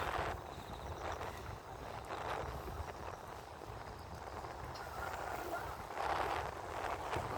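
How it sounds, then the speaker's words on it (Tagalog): Steady rushing wind buffets the microphone, a broad low roar with gusts swelling louder near the end, continuous throughout. "Lakas ng hangin"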